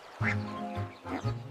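A duck quacks several times in a quick, close, loud series of short honking calls, heard on its own.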